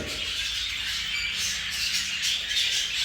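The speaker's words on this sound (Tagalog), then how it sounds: "So ayan, maraming dito pares-pares mga kaibon." Cockatiels in an aviary squawk continuously, a dense chorus of shrill harsh calls from several birds close by with no voices over them.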